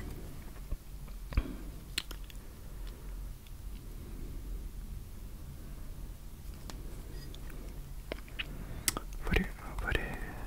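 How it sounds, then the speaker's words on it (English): Someone eats a McDonald's Filet-O-Fish burger with quiet, close chewing and soft biting and squishing sounds, joined by faint whispering and a few sharp clicks. "Today I'm gonna be eating burgers from McDonald's."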